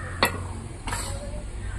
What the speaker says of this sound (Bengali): নুন দিয়ে চালের গুঁড়িটা আরও সুন্দর করে ভেজে নিচ্ছি।